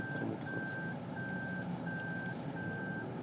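A car backing into a parking spot sounds a high reversing beep that repeats about every half second over a steady low background hum.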